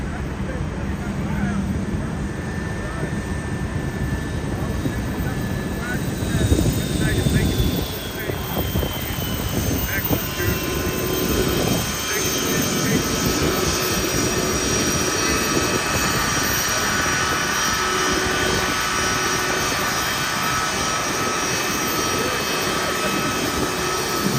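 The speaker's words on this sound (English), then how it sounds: "Here come the Braves on their Boeing 757." A Boeing 757 jet airliner's engines drone steadily in the distance as it arrives at an airport, a broad roar with a faint whine, continuing throughout with a slight swell partway.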